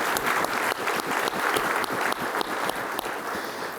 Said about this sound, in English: that deserves clapping too.